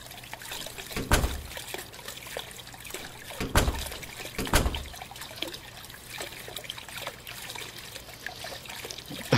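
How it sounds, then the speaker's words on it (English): Water trickling and splashing from a busted faucet in the video game The Crooked Man, a continuous dribbling flow with a few louder sloshing surges against a low hum. "Yikes, the water. Is the faucet busted?"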